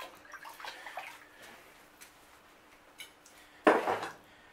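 A hot blade of a dark age style knife is plunged into water for quenching: faint clinks and scraping first, then one sharp, loud hiss and sizzle that quickly fades.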